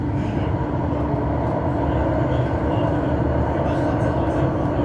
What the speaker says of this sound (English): This is a metro train.